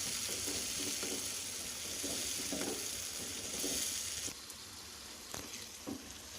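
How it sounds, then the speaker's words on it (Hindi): Masala frying in a pan for a masala egg fry makes a steady, close sizzling hiss that drops quieter partway through, with a few light stirring clicks and scrapes toward the end. "मसाले को हम 3 मिनट तक अच्छी तरह से भून लेंगे।"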